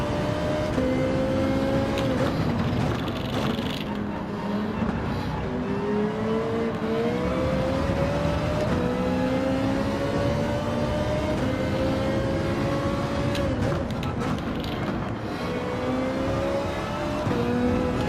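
Lamborghini Huracan race car engine in Gran Turismo during an online manufacturers cup qualifier, a continuous loud high-pitched engine note rising and dropping through gear changes, with other cars blended in under the whine.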